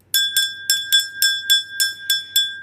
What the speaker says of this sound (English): Most of you are familiar with this bell.